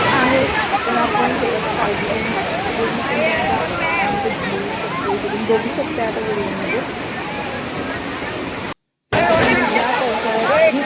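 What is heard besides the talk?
Savatkada waterfall near Kolhapur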